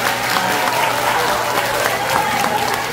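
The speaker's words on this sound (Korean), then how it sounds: "다시 한번 박수 부탁드리겠습니다." Crowd applause at an outdoor festival night concert in Chungju on a rainy evening, a steady dense wash of clapping that holds for the whole stretch, with voices mixed in the crowd noise.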